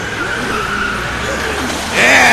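A truck in the video game The Walking Dead pulls away, a tire squeal rising over a steady engine drone and growing louder and harsher at the end.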